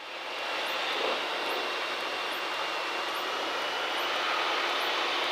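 A Cessna 152 flies with its engine droning steadily, a loud continuous broadband roar that holds even throughout, with no voices.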